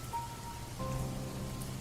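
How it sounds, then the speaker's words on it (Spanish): Heavy rain falls steadily on a surface, a dense continuous patter with a faint tonal hum running underneath, no voices present. "La lluvia no paró."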